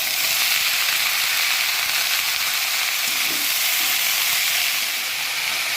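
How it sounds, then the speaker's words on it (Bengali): Chopped banana blossom frying with spices in a pan for a Bengali mochar ghonto with fish head, giving a steady, loud, close sizzle throughout with a brief soft stir near the middle. "মোচাটা আমার একটু ভাজা ভাজা হয়ে গেছে"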